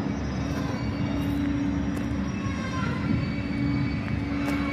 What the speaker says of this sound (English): The train's stopping that way.